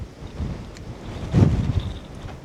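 Gusty mountain wind on the Haute Route trek near the French-Swiss border in the Alps, a steady rumbling rush over the microphone that swells into a stronger gust midway.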